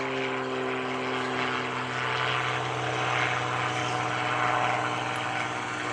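A propeller-driven aerobatic airplane drones steadily as it climbs out at the 2012 Greenwood Lake airshow, its engine note constant and fairly loud throughout, with no voices heard.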